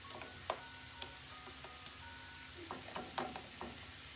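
Jackfruit cooking in barbecue sauce in a pan, giving a faint, steady low sizzle with occasional soft pops and light clicks scattered throughout.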